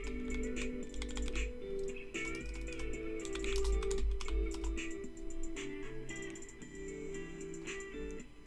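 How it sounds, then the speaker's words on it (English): Loud typing on a computer keyboard, a fast, close run of sharp clacking keystrokes with irregular rhythm and no pauses over several seconds. "I just type loud."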